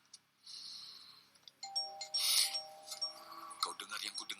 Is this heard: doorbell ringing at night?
yes